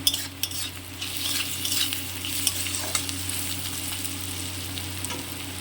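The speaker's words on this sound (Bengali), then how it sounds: "হলুদ গুঁড়ো লঙ্কা গুঁড়ো দিয়ে ভালো করে কষে নেব" Masala with turmeric and chili powder frying in a pan, a steady oil sizzle under irregular spoon scrapes and occasional clinks against the pan, close and continuous with no talk.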